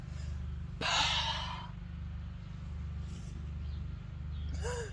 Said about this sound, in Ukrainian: Потім робимо вдих повністю звільняємося